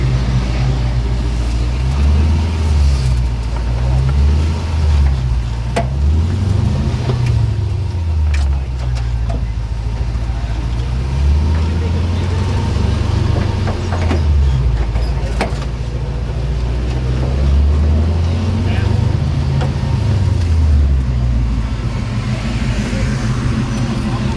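A 1966 Toyota Stout pickup with a swapped-in Lexus V8 drives along, its engine droning steadily and close by, rising and falling in pitch as it shifts through gears on a cruise.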